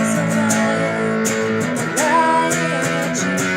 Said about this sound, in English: in the second chorus, you'll be playing power chords